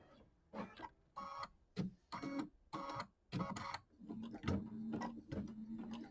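An embroidery machine stitches chenille lines on a quilt block in quiet, close bursts of rapid mechanical clatter separated by short pauses, settling into a steadier whirring run toward the end.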